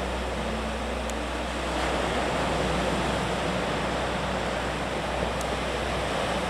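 Sea surf near a beach is heard from higher ground, a continuous broad wash of waves rolling at a steady, moderate level throughout, with no voices.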